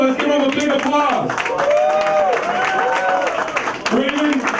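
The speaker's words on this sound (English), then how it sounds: "let's give him a big applause" A crowd applauds the Consul General of Botswana at a New York Hispanic Chamber of Commerce event, clapping steadily throughout while a voice speaks over a loudspeaker on top of it.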